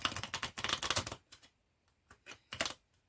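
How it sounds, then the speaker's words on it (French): Oracle cards being shuffled, a run of dense riffling bursts for about a second, then a few shorter, softer card flicks and one more loud burst near the end, close and with no voices. "On va bien brasser les cartes."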